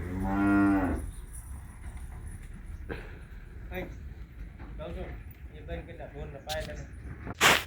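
A cow on a farm moos loudly and close by in one long low call at the start, followed by people talking and some faint footsteps and shuffling.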